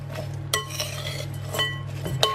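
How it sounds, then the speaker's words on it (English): A spoon mixes granola ingredients with chocolate in a bowl, giving repeated clinks and scrapes against the bowl over a steady low hum, with no talking. "I'll just give this a nice mix through and get all the chocolate"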